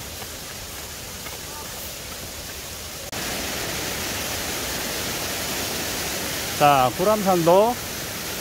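A mountain valley stream runs beside a hiking trail near a temple, making a steady broadband rush of flowing water that grows louder partway through, while someone briefly speaks over it.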